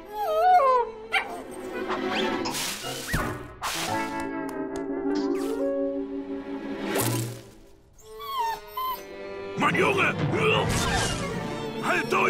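A cartoon dog barks, yips and whimpers in short bursts amid cartoon sound effects and whip-like cracks, with voices speaking in between.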